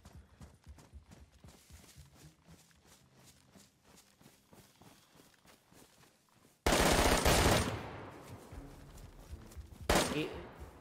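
Automatic gunfire in the video game DayZ: faint, rapid rhythmic shots at first, then a sudden loud roaring burst that fades, followed by a second sharp burst near the end.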